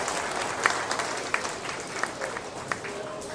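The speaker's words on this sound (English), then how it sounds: "let's give a round of applause to our third class of seniors." A livestock showmanship crowd claps for a class of seniors, a brief burst of steady applause with a few sharper individual claps standing out amid faint background voices.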